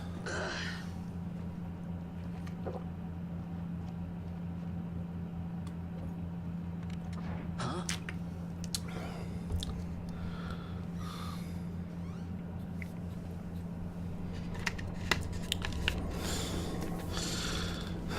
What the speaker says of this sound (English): With a lot of weird breathing and noises.